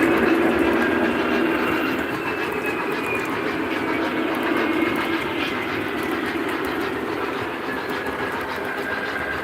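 Model trains run on outer and inner loops of a layout with a steady, close rumble and faint clicking of wheels over track joints, continuing without a break.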